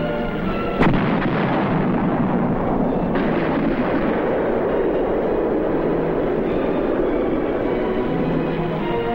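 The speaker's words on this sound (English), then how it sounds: "The 155s lay down a barrage on Hill 311." 155 mm howitzers fire an artillery barrage on a hill in the Korean War, a sharp heavy blast followed by continuous loud rumbling and roar that fills the whole stretch.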